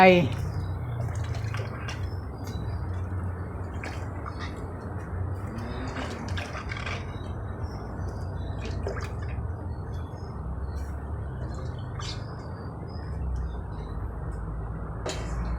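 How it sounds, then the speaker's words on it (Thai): Coconut milk with pork simmers for a Thai pork curry, making a low bubbling with scattered small pops and drips. A voice is heard briefly at the start. "ปล่อยให้กะทิเดือด เดือดในลักษณะแบบนี้"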